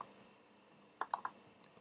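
Keys on a computer keyboard tapped in a quick, quiet burst of three or four clicks, with a lone extra click shortly after and no talking.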